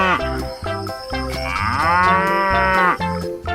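A water buffalo in an animal rescue truck simulation game gives several short, close, loud moos in a choppy rhythm, then one long drawn-out bellow.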